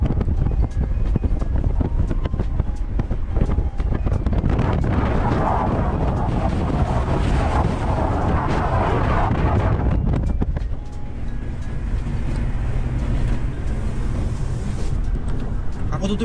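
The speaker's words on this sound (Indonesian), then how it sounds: "anginnya kenceng banget guys" Strong wind blows over open vegetable farmland in France and buffets the microphone hard, a loud, rumbling roar that gusts and pulses continuously and drops somewhat after ten seconds.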